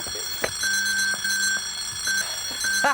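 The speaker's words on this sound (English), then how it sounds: "All the alarm clocks have gone off." Several alarm clocks ring at once, a loud overlapping clatter of bells and repeating electronic beeps in an uneven rhythm, heard close and without voices.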